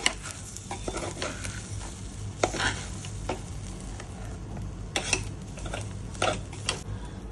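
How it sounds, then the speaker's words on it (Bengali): Polao rice with turmeric being stirred in a hot pan over raised heat, a steady low sizzle with repeated scraping, rustling strokes of the spoon against the pan, close and without talk. "আবার একটু হিটটা বাড়িয়ে নাড়িয়ে চাড়িয়ে নিচ্ছি।"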